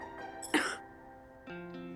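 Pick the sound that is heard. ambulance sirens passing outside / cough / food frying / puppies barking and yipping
cough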